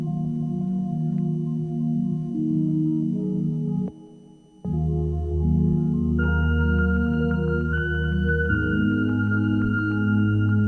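Ambient synth keys in a dark experimental sample, giving an alien-like mood: sustained layered chords that shift slowly, a brief dip near the middle, then brighter held tones entering, smooth and continuous with no talking.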